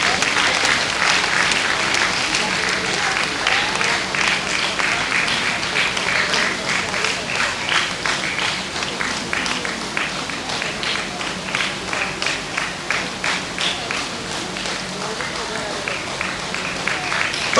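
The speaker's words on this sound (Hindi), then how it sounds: "जोरदार तालियां।" Loud, sustained crowd applause at a Birsa Munda anniversary ceremony in Andaman as the runner-up team is welcomed on stage, dense clapping that grows more rhythmic toward the end.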